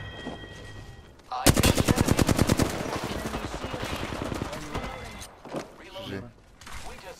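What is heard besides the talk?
gunfire from a video game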